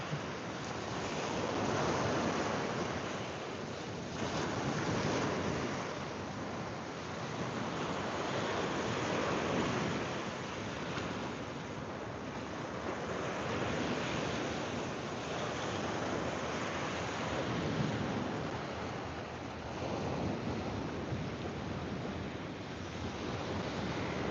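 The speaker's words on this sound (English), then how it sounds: "the beach is my favorite place to be" Waves and wind at a beach make a constant broad rushing roar that swells and ebbs slowly as surf rolls in, with wind buffeting the microphone and no voices.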